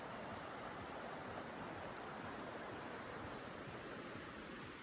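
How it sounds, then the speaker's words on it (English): The Hawkwa River flows beside Fry's Hut in the Victorian High Country, a faint, steady broadband rush of water that continues unchanged with no voices. "we're just back on the Hawkwa River here"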